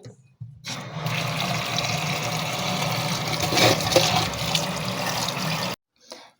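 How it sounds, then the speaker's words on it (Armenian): Steady running water pours over chopped watermelon for several seconds, a continuous tap-like rush that stops abruptly, with no voices. "Մանրած ձմերուկը մի հատ հոսող ջրի տակ կլվանանք"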